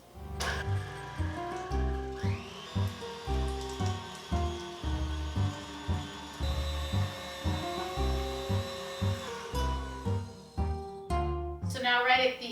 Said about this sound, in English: we're going to start putting it into the feeder so that it starts to grind